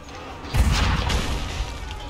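Cannon fire in the video game Assassin's Creed III Remastered: a single heavy boom hits about half a second in, then a rumbling tail that lingers at steady level to the end.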